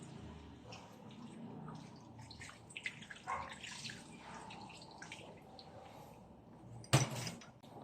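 Water poured into a pot for squash, chicken and mushroom soup, a faint splashing trickle with clatter and a brief louder splash near the end.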